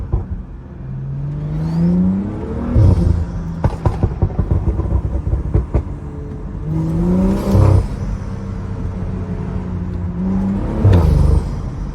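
A tuned Stage 2+ BMW 335i drives through a small tunnel, its engine and exhaust booming and echoing as revs rise and fall through several gear changes, with sharp crackles and pops in between.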